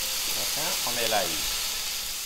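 Chopped garlic hits hot oil in a pan, giving a steady, close, bright sizzling hiss throughout, with a voice briefly speaking over it.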